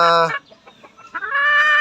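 A gamefowl rooster crows loudly up close, then chickens cluck in a few short bursts before another drawn-out crow rises at the end.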